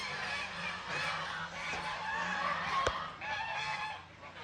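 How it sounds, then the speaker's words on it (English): A flock of geese being fed honks repeatedly and overlapping, moderately near, in Greece, with one sharp knock partway through. "they're feeding geese at the moment, so there's going to be some noise"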